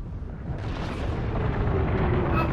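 Volcano eruption in a Fortnite Season 8 match, a continuous loud rumbling roar with deep booming that builds slightly and holds steady throughout.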